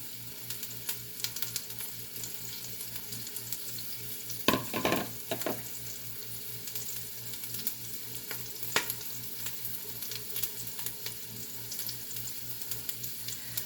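Pork stew fries and spatters in a pot, a continuous close sizzle with a loud burst of popping and crackling partway through and scattered sharper pops afterward.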